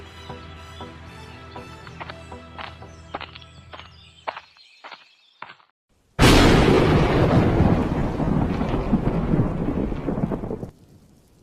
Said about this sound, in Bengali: আজকে খুব জোরে বৃষ্টি পড়ছে